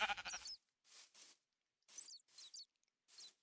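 Sheep bleating in the Minecraft video game: a clipped digital bleat followed by four short, separate bleats with silent gaps between them, close and clean with no talk.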